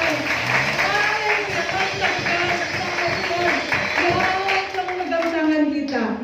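A church congregation claps and cheers loudly and continuously, with a crowd of voices and hand claps blending together, musical tones sustained underneath.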